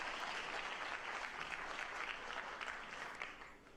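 Steady applause from an audience at a White House speech event, continuous and fairly even for the whole stretch with no voices on top.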